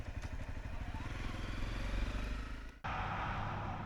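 A Honda CRF 250L motorcycle rides along, its single-cylinder engine thrumming steadily up close and loud, then briefly cutting out before a shift in tone as it continues.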